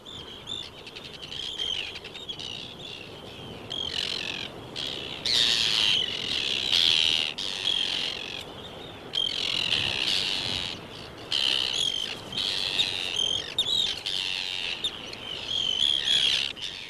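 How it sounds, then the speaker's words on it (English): A colony of Arctic terns in Shetland calls continuously, harsh overlapping shrieks and chatter rising and falling in bursts, loud and close with no speech. "The arrival of the Arctic tern heralds the brief Shetland summer"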